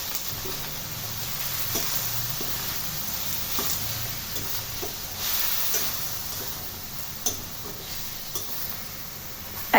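Mushrooms frying in a pan for poutine give a steady, soft sizzle with occasional stirring clicks and scrapes, close and even throughout, no voices.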